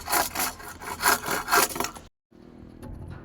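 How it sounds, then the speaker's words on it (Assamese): Bamboo is cut at a construction site with quick, rhythmic sawing strokes, loud and close, before the cutting stops abruptly and only faint background noise remains. "বাঁহ কাটি আছে"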